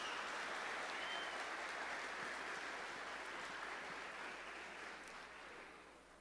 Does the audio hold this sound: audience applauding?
yes